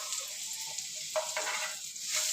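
Garlic sizzling in a frying pan with a little salt for an egg potato masala, a steady hiss of hot oil with faint stirring scrapes throughout, no voices.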